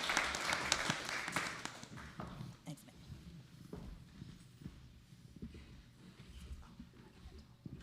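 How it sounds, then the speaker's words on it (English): Congregation at a church service claps after the lighting of the candle of peace, a loud burst at first that thins into scattered claps and shuffling, with voices talking underneath. "We can applaud."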